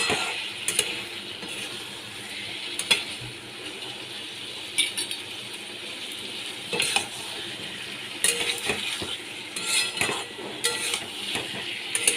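Potatoes sautéed with chili powder in a pan, a spatula stirring and scraping in repeated bursts over a continuous soft sizzle, close and fairly loud, with no voices.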